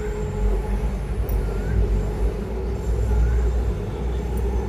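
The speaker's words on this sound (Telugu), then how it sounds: "ట్రైన్" A train passing outdoors in the early morning, a steady loud rumble of wheels and cars rolling by with a low drone that holds throughout, no speech over it.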